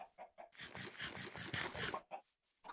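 Chickens in a video game cluck in a quick, busy cluster, faint and close, with a few short clucks before and after a denser burst.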